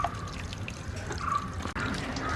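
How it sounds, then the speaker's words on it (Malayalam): Freshly harvested turmeric is washed in a second batch of water, with close splashing and dripping sounds in short bursts and a brief sharp cut near the end, with no voices. "രണ്ടാമത്തെ വെള്ളത്തിലൂടെ കഴുകിയെടുക്കാം."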